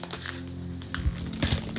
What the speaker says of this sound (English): Why did I shuffle like that?